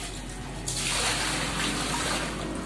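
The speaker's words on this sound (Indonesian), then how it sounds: "Setelah itu, siram toilet sampai bersih." A toilet flushing with water, starting with a sudden loud rushing gush after a quiet moment and continuing as a steady close torrent without any voices.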